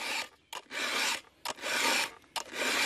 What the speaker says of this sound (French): Dernier coup de lime